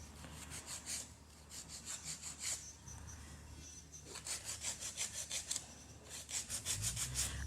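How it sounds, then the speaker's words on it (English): A nail file rasps rhythmically across a fingernail, close and quiet, in quick back-and-forth strokes grouped in bursts with short pauses between. "when you're actually filing the nail"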